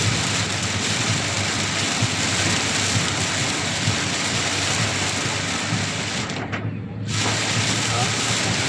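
Dense, steady downpour hisses loudly and continuously, briefly muffled for a moment near the end before returning.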